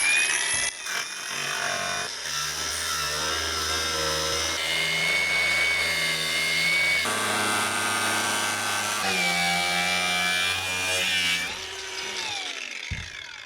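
A power tool cuts steadily through a metal part on a BSK Zephyr 160 bus being converted to a camper, a loud continuous whine that shifts pitch as the blade bites, with brief changes in load and no talking.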